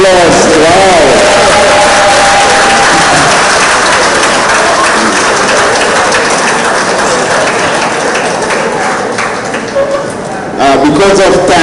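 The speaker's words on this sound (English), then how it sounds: "Could we give them a round of applause?" Applause for new members at a retired persons' association monthly meeting in Trinidad and Tobago: a sustained, dense round of clapping from a large seated crowd fills the room, with voices mixed in.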